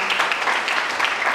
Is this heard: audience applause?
yes